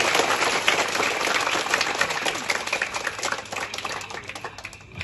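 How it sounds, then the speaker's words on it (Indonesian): An audience at a school aid handover ceremony claps for the President, a dense, crisp clapping that holds steady and gradually thins toward the end. "Kita tepuk tangan buat Bapak Presiden."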